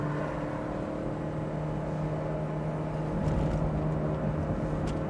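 A sports car, a Mazda Miata or Honda S2000, held in one gear at a steady drone from inside the cabin, with the engine note swelling slightly partway through as it presses on, no one speaking.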